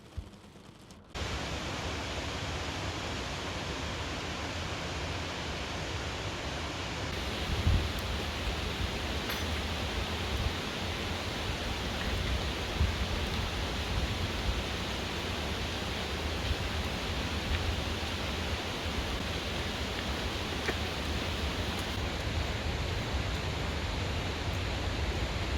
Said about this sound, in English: the rain got heavier and heavier and heavier